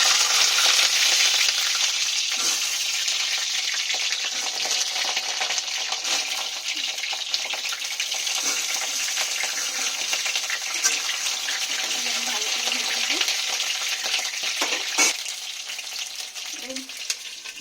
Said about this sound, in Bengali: বন্ধুরা আমার পটলগুলো ততক্ষণ আস্তে আস্তে ভাজা হোক